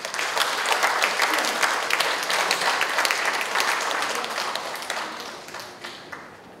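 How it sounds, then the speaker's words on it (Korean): Audience members at a church seminar clap to welcome a pastor to the podium, a full, continuous round of applause that gradually thins and fades out over several seconds. "박수로 환영해 주시기 바랍니다."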